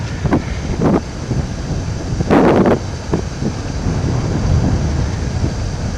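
Steady wind blows by the sea and buffets the microphone, giving a constant rumbling roar with a few louder gusts over six seconds. No voices are heard.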